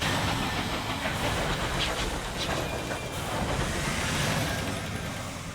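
Locomotive from the game Sunless Skies running continuously, a steady hissing, rattling rumble with faint rhythmic clatter, fairly quiet and unbroken, no voices.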